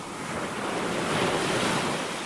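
A cartoon river scene where a boat sinks mid-river carries a steady, dense wash of rushing water and waves that swells slightly through the middle, with no voices.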